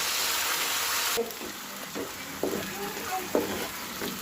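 Onion chutney paste is stir-fried in a pan, its loud sizzle easing a little after the first second, while a spoon scrapes and knocks against the pan several times.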